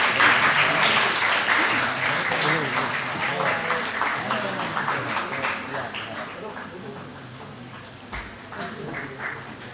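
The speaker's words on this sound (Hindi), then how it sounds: "जोरदार तालियां बच्ची के लिए।" An audience applauds loudly for a young girl after her naat recitation at a school naat competition, steady dense clapping that slowly tapers toward the end, with some voices mixed in.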